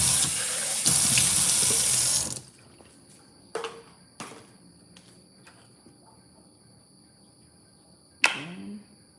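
Tap water runs loudly into a kitchen sink for about two seconds, then stops, followed by sparse clinks and knocks of plates being handled, with a faint steady insect-like whine in the background.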